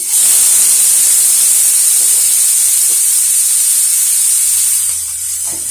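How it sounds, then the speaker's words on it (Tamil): Finely chopped onions sautéing in a pan for egg gravy make a loud, close, steady hiss that eases slightly toward the end. "இது ஒரு நிமிஷம் நல்லா வதங்கட்டும்"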